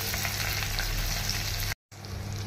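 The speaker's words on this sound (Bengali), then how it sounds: "পেঁয়াজটা অল্প যেই ভাজা হয়েছে, বেশি ভাজবো না পেঁয়াজটা।" Onions fry in oil for fish cooked with kasundi, making a dense, steady sizzle that stops for a brief moment and then carries on.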